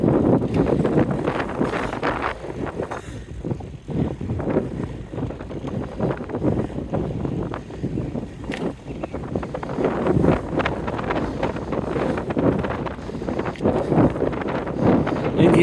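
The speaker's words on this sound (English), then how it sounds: "I'm sure the wind sounds wonderful now" Steady gusting headwind buffets the microphone on a RAGBRAI training bicycle ride past a small park, a loud, continuous low roar with shifting rumbles that fills the whole stretch.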